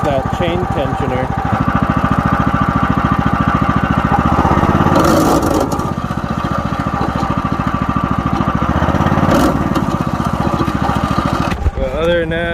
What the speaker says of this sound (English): that hardcore noise is that chain tensioner